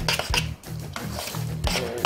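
Mashed potato is stirred in a bowl, a spoon scraping and clinking against the sides in several short rhythmic strokes, close and fairly loud.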